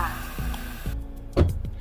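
A bus emergency door latch clicks open with a single sharp knock, over a steady low hum and faint voice-like tones.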